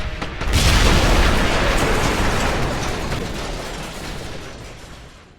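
A grenade explodes in the World War II shooter Medal of Honor: Airborne, a loud, close boom that bursts suddenly and then decays in a long rumbling tail.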